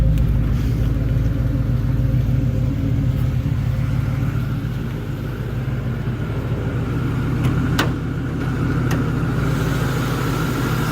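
A 1969 Mustang Fastback with a new radiator, fan and fan shroud idles steadily with its hood open, a close, smooth low rumble that stays even throughout.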